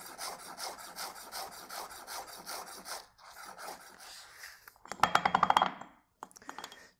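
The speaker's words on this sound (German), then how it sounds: "Als nächstes schneide ich meinen Schnittlauch in schöne," A knife on a cutting board slicing chives into fine rolls for veal in mushroom cream sauce, rhythmic quick chopping strokes close by, followed by a few louder knocks and clinks, with no talk.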